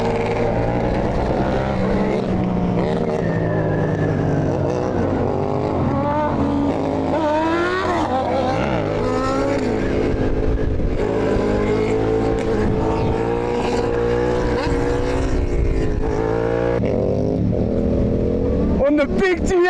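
A BMW F900GS motorcycle revs hard during wheelies at a riding event in Brazil, its engine note rising and falling repeatedly and staying loud and close throughout.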